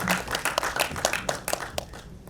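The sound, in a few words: audience applause at song launch event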